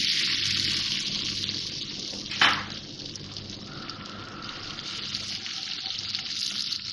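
Ginger garlic paste fries in butter and oil in a wok, a steady bright sizzle with a brief louder hiss as it hits the hot fat, continuing evenly afterward.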